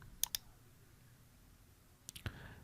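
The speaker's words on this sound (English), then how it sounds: "click on set permissions, choose custom from this and uncheck all except you. Okay, click on done." A computer mouse clicks while working in Google Sheets: two quick clicks, a quiet pause, then a few more clicks, close and faint.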